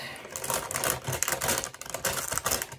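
Rapid, dense clicking and snipping of scissors cutting through cooked chicken, a busy, fairly close series of crisp cuts with no talking.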